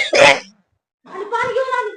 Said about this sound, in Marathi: अरे कसला ठसका चाललंय